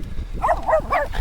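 Dogs bark and whine in a short, close flurry of yelping calls, several overlapping cries within a second.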